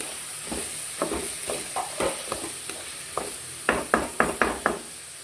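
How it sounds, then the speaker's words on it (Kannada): Bitter gourd frying in a pan while being stirred, with a soft steady sizzle under a series of scraping and knocking strokes of the spoon against the pan, growing sharper and more rapid toward the end. "ಈಗ ಮಿಕ್ಸ್ ಮಾಡ್ಕೊಳ್ತೀವಿ ಇದು ಚೆನ್ನಾಗಿ ಸ್ವಲ್ಪ ಬೇಯಬೇಕು"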